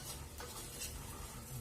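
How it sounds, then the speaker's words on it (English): Oil sizzles steadily in a pan while something is stirred, with faint scraping of a utensil, quiet and close. "I am browning them. You know, like stir frying them in the oil"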